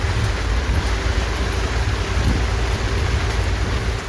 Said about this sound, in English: the rain really started coming down